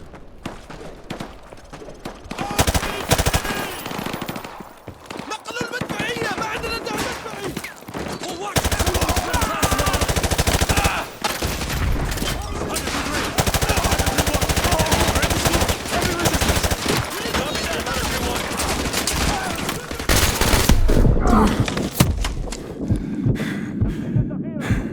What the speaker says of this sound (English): We're taking heavy fire from the school.